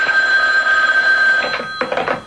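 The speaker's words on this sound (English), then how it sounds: "Every time the phone rang" Telephone bell ringing as a radio drama sound effect, a loud, continuous metallic ring with a steady high tone that fades after about a second and a half into a few shorter bursts.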